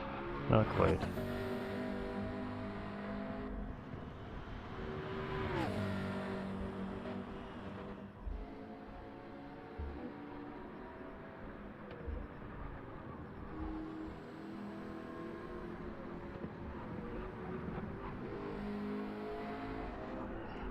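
Race car engine from a sim racing game at Barcelona, held at steady high revs through a flying lap with a few gear-shift dips, running continuously under ongoing commentary.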